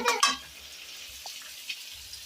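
Rohu fish pieces frying in a pan in a village kitchen, opening with two loud bursts of sizzle and spatter before settling into a faint, steady crackle with a few soft pops.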